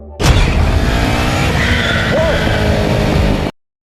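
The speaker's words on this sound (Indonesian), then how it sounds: "Flynn menemukan dirinya dalam avatar Easy Eyes sedang mengendarai sepeda motor" A motor vehicle roars continuously at close range, loud and steady for about three seconds, with a tire-like squeal partway through before it cuts off abruptly into silence.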